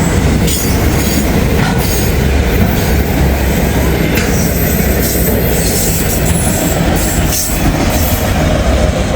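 A Canadian National freight train rolls past up close and loud, a continuous rumble of railcars with wheel squeal and clickety-clack over the rails.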